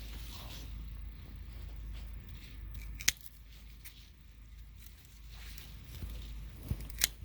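Garden scissors snip through branches on a fruiting plant during pruning, with a few sharp isolated cuts and faint creaks against a quiet outdoor background.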